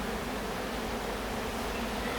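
Honey bees buzz around a hive in a dense, even drone of many wings. The swarm hum sounds close and continuous throughout, with no voices.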